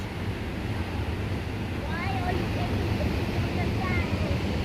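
Steady rushing water of the High Force waterfall on the River Tees roars continuously, a dense broadband wash, with faint voice-like traces over it partway through.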